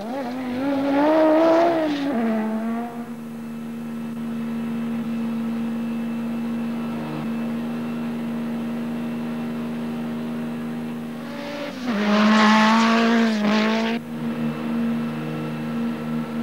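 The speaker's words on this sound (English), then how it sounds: "Schechter is doing well in his 205 Evolution, just keeping up with Wilson in the Ford RS200 and Millen in a Mazda RX-7." Rally cars, including a Peugeot 205 Evolution, Ford RS200 and Mazda RX-7, race up the Pikes Peak hill climb. Two loud revving passes bracket a long stretch of steady, more distant engine drone.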